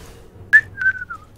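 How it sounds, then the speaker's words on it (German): A person whistles during a League of Legends recording session, giving a short, clear whistled phrase that rises and then falls, close and fairly loud over a low background hum. "Jungs, nicht pfeifen während der Aufnahme"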